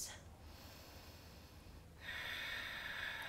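Breathing during a half moon yoga pose, a slow, close inhale followed by a longer, louder exhale with a breathy, airy hiss, faint and alone in a quiet room.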